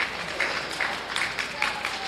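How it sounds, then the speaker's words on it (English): Crowd applause at a county fair lamb and sheep show, a steady patter of many hands clapping in a large arena, moderately loud and sustained throughout. "Let's send them out with a nice round of applause."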